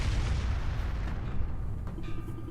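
A deep rumbling boom in the action RPG Ys IX: Monstrum Nox, heavy low-end roar sustained for a couple of seconds and fading, with a faint tonal chime at the end.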